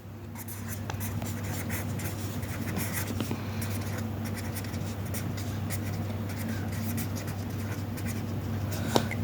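A pen writes geometry construction steps on paper, a steady, close scratching with rapid little strokes that carries on throughout.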